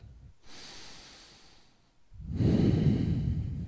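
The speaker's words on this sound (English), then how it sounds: "One more breath." A deep breath during a morning yoga routine for knees and hips: a soft, airy inhale, a brief pause, then a longer, fuller exhale, close and clear with no talk.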